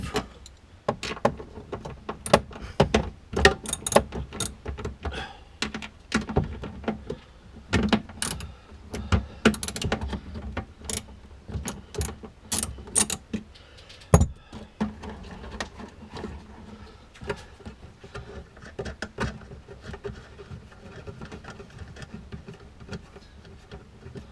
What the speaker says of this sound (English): Now there's 4 of these 8mm nuts, which I'll undo. Just loosen them all off, crack them all off.